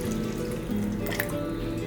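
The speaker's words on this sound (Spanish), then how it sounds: "Agregamos el agua." Water pours into a pot of beans in a Ninja Foodi pressure cooker, a steady close splashing trickle over a faint background hum, lasting under two seconds with no talk.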